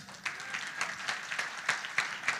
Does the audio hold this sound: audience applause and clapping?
yes